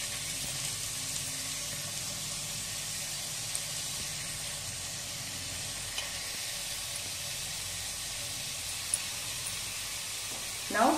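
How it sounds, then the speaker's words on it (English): Finely chopped onions frying in a tablespoon of hot oil in a pan for Goan potato chops, a steady broadband sizzle that holds evenly throughout with a few faint clicks and a brief utensil knock near the end. "we have to fry these onions just till they are soft."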